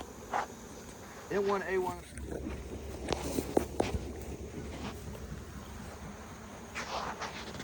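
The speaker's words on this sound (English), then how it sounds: "The bees are getting kind of agitated. I see them swarming around there all over." Agitated honey bees buzz around an opened hive during an August hive split in North Carolina, a steady swarming drone with brief talking over it and scattered handling knocks.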